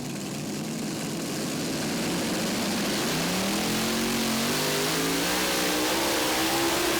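A truck or tractor pulling vehicle powered by Noonan engines at the 2023 Bowling Green pull roars loud and steady, its pitch climbing as the engines rev up under load.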